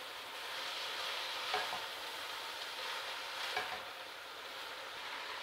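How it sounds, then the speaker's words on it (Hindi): Spring roll filling with soy sauce, chili sauce and vegetables is stirred and fried in a pan, giving a steady sizzle with a couple of brief scraping stirs, close and alone without talk. "इन तमाम चीज़ों को अच्छे से मिक्स करते हैं और दो से तीन मिनट के लिए कुक करेंगे"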